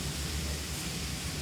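Larks browning in a pan, cooked in a small batch so the meat colours rather than boils, giving a steady close sizzle that fills the whole moment with no voices.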